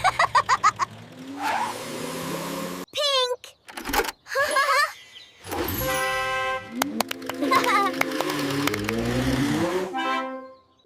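Cartoon toy cars drive, toot horns and rev in a toddler colors song, with quick honks and engine zooms mixed with music and a child-like voice speaking over them.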